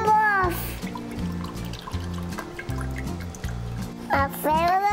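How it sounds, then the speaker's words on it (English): Broth poured into a bowl during a children's cooking series opening, a liquid trickle and splash over a bouncy music track, with a brief voice and sound effects at each end. "Pour the broth."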